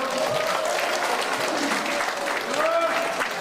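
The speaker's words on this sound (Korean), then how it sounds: "박수로 맞이하겠습니다" An audience at a Busan lecture event claps to welcome the final speaker, a lawyer. A full, steady wash of clapping fills the hall, with faint voices underneath.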